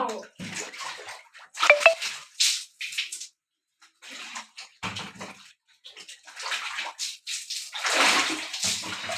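Water rushes in and bubbles while a child plays in the water, sounding as uneven, splashy bursts that come and go with short quiet gaps.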